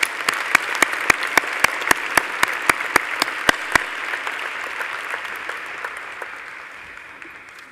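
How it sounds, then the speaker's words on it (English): Graduation-day audience applauds recipients from a medical faculty: a broad wash of crowd clapping punctuated by a sharp, regular single clap near the microphone for the first few seconds, then the applause slowly fades. "Please join me in a round of applause for the recipients."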